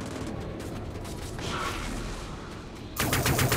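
Small arms fire aimed at a tank in the sci-fi shooter Dust 514, a dense, continuous crackle of rapid gunfire that grows louder and harsher near the end.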